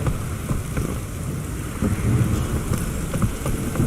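Steady heavy rain pours down with a low rumble of thunder rolling underneath in The Witcher 3, continuous and fairly loud throughout.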